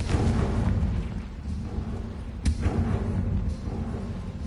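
Booming blasting-spell explosions in a video game, a dense low rumble with one sharp crack near the middle, continuous and loud throughout with no talking.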